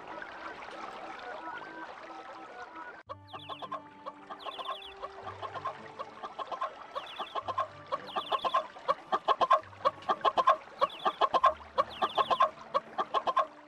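Video game chickens clucking in a steady run of short, repeated bursts, fairly loud and close, with a low background hum and no talking.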